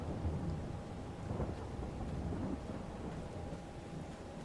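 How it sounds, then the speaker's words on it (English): Steady broadband rain with low thunder rumbles in Farming Simulator 22, a continuous wet hiss with a faint tonal hum running through it, even and unbroken for the whole stretch. "We're doing this in the rain as well."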